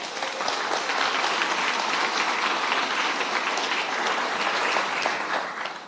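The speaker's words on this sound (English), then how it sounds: "Can we give them both a round of applause?" Dense, sustained applause from a research centre launch audience, many hands clapping at once in an even roar that fades slightly at the end.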